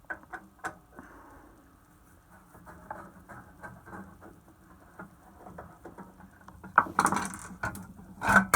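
Small mechanical clicks and ratcheting ticks come from a screwdriver turning the single crosshead screw on the side cover of an Aldi Workzone scroll saw, quiet and intermittent, with a louder rattling burst near the end.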